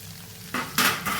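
Coriander and cumin seeds are dropped into hot oil for tempering, giving sudden loud sizzling bursts in short successive waves, close by with no talking.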